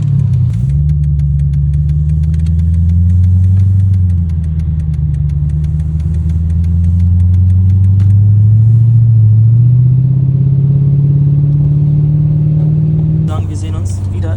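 A Mercedes CL500 V8 with straight-pipe exhaust rumbles loudly and close at a deep idle, its pitch swelling and dipping through gentle blips of the throttle, with a brief clatter at the end.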